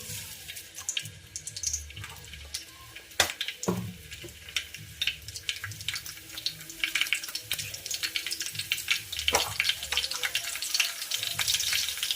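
Finely chopped curry leaves crackle and sizzle in hot oil in a pan while batata vada is being made. Sharp pops and spits sound close over a steady hiss, with no voices.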